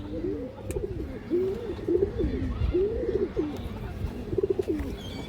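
Pigeons coo in a steady run of repeated, rolling calls close by, with a few faint chirps in the background. These are full ring-eyed pigeons being shown for sale.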